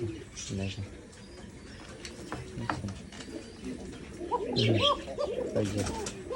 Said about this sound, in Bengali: খুবই এগ্রেসিভ একটা কবুতর মানে প্রচুর ফাইট করতে পারে প্রচুর